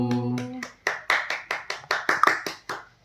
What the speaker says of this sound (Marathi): टाळ्या वाजवायचे